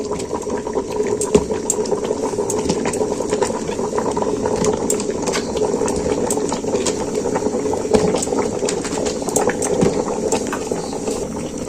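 Vegetables, lentils, taro, sweet potato, potato and eggplant simmering in a covered pot give a steady, close bubbling boil with small pops and clicks throughout, no voices.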